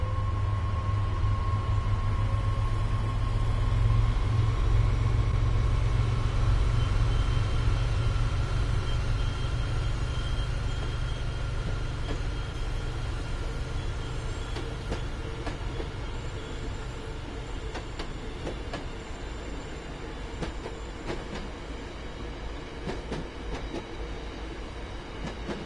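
An MBTA commuter train engine at full power in Train Sim World 5 gives a steady, loud low rumble with a faint tonal whine, overlaid later by rapid rail clicks and rattles, with no talking.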